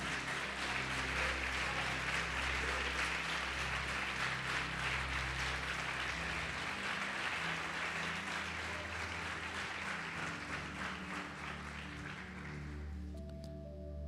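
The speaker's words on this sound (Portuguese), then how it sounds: "Você pode aplaudir o Senhor Jesus por isso?" A church congregation claps for a sustained stretch during a sermon, a faint, even patter of many hands over a low organ-like drone that fades away toward the end.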